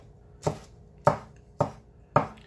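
Four crisp knife chops through aging scallions on a cutting board, evenly spaced about half a second apart, close and clear with no talking.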